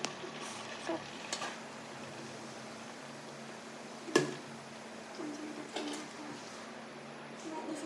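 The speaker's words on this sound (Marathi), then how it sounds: "सो बटर झालेलं आहे आणि त्याच्यात आता कांदा टाकायचा" Onion hits melted butter in a kadhai and sizzles with a faint, steady hiss, with a few sharp clinks and taps of a utensil scattered through it.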